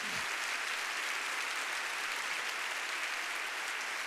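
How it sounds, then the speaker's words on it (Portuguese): A church congregation applauds during a Baptist service, a dense, continuous wash of many clapping hands filling the space evenly, sustained and fairly loud with no voices over it. "Você pode dar um aplauso a Ele"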